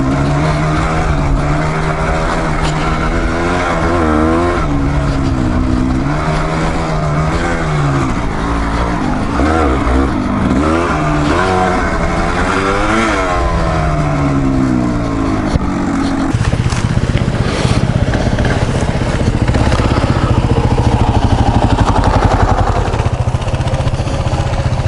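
Yamaha DT200r dirt bike engine riding off road, a loud, close, continuous buzzing two-stroke drone rising and falling in pitch as the rider works the throttle through rough terrain.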